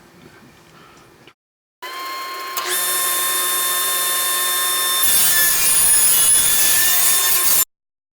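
A power saw gang-cuts a bundle of wooden shelf legs, with a brief motor spin-up followed by a loud, steady cutting whine through the stacked wood that stops abruptly.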